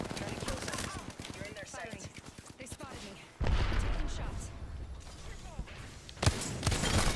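Rapid bursts of gunfire from the Apex Legends video game, dense automatic shots crackling through the first few seconds, then heavier blasts and chaotic combat noise, mixed with excited player voices talking over it.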